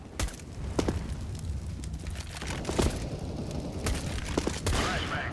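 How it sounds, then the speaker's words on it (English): Flashbang and incendiary grenades going off in Counter-Strike: Global Offensive amid a dense stream of gunfire: sharp repeated shots and bangs over a loud, continuous game-sound bed. "Throwing flashbang. Incendiary out."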